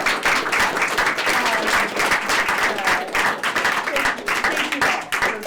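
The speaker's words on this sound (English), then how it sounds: "So I guess we clap for Professor Middlebrook." Audience at a university book talk claps for Professor Leah Middlebrook, a full, steady round of applause from a roomful of people, loud and continuous with no talk over it.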